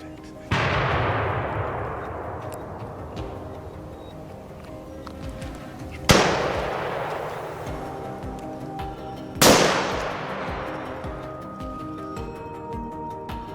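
Three loud gunshots at fleeing wild boars in a forest, each a sharp crack followed by a long, slowly fading echo, spaced several seconds apart.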